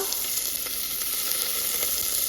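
Onion sizzles loudly in very hot oil with mustard seeds and garlic, a dense, steady crackling hiss that stays even throughout, close by and with no talk.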